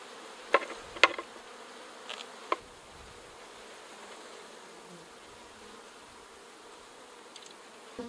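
Bees buzzing around an opened beehive, a faint, steady hum with a few brief, closer buzzes from individual insects passing near, no voices.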